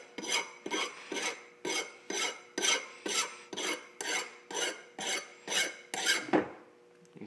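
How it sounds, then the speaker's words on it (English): A metal file deburrs the cut edges of 316 stainless steel tubing in about a dozen even, rhythmic rasping strokes, close and moderately loud, with a final stroke and a light clink at the end. No one speaks. "Now what I'm going to do is use this file and kind of clean up the edges"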